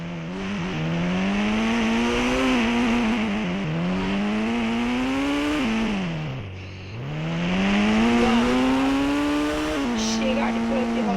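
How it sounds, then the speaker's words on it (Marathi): A car in the video game GTA V drives and drifts with a loud engine note rising and falling through gear shifts, dipping once before revving back up, with faint tire noise. "गाडी पळते बघा"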